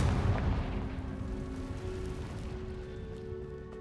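A Confringo blasting spell goes off in Hogwarts Legacy in the catacombs: one heavy, booming explosion opens the clip, then its rumble slowly fades, with no one speaking.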